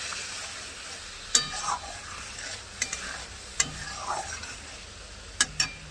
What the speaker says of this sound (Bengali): কালার হওয়ার জন্য এবার ডিমগুলো একে একে ছেড়ে দিল।